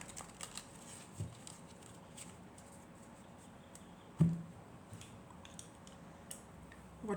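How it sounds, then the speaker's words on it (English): Tarot cards are shuffled quietly by hand, with soft papery riffles and flicks and a couple of duller taps against a still, hushed room. "One last shuffle and then we'll start."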